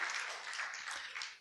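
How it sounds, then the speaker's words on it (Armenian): A church congregation claps warmly to welcome first-time visitors, a steady, even wash of applause that sounds fairly faint and distant, with no speech over it. "Եկեք ջերմ ծափահարենք մեր սիրելիներին։"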